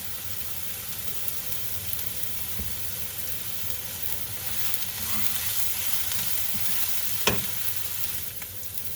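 Ingredients sauté with a pinch of salt in a pan for Kerala-style fish peera with shredded coconut, giving an even close hiss and sizzle with a few faint stirring knocks and no voices.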